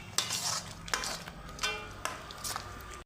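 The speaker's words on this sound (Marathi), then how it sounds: "आणि ते असं मिक्स करायचं" Palak paneer gravy stirred in a pan for a restaurant-style dish, a spoon scraping and clinking against the metal in several distinct strokes with soft sizzling between them, close and fairly quiet, with no talk.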